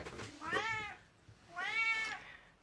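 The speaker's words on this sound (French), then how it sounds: "Chut, ah non, pas miauler." A cat meows twice indoors, two drawn-out moderately loud calls about a second apart, with a short pause between them and quiet room tone around.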